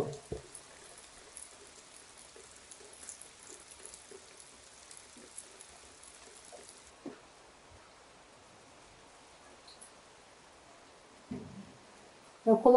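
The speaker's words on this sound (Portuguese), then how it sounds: "Olha a chuva que está lá fora. Está chovendo bastante." Steady rain falls outside, a soft continuous hiss of drops with occasional faint clinks and rustles nearby.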